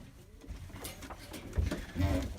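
Tumbler pigeons in a coop give low, soft cooing calls, swelling louder toward the end of the short stretch amid faint rustling.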